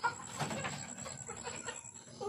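Soft, scattered clucking from a hen and her chick nearby, a few low throaty calls over quiet background noise.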